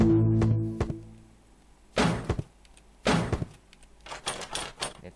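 Locked door being tried in the horror game Misao: a low tonal drone opens, then two loud rattling thunks of the handle and frame about a second apart, followed by lighter clattering knocks.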